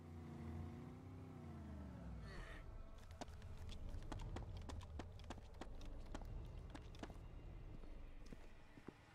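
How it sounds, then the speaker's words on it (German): A car engine in the video game DayZ hums and shifts pitch as it accelerates, with a run of clattering, percussive taps over a steady rumble. "Ich höre ein Auto."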